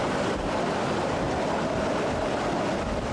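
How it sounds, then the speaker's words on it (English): Hurricane Andrew's wind gusts roaring on Miami Beach, a constant, loud broadband rush of howling wind and churning surf that never lets up. "Wind gusts have been up to about 75 miles an hour."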